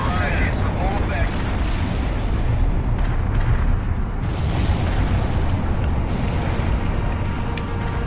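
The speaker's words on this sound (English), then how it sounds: "Heavy artillery barrage inbound." An artillery barrage in the World in Conflict strategy game: dense, rumbling booms and explosions overlap in a continuous heavy roar, loud and sustained, with battlefield noise and voices mixed in.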